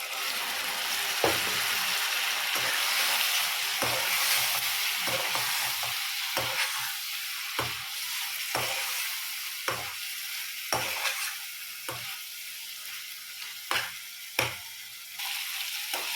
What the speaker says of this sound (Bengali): একটু গরম জল দিয়ে দিয়ে ভালো করে কষিয়ে নিচ্ছি